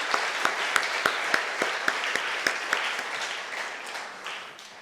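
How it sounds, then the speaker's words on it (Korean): A church congregation applauds a women's mission choir at a New Year blessing service. Sustained clapping from many hands runs throughout, with a few sharp louder claps standing out early, moderately loud and gradually easing. "오늘 은혜로이 찬양해 주신 시온 호산나 연합여선교회 아이노스에게 격려의 박수를, 또 하나님께 감사와 영광의 박수를 하겠습니다."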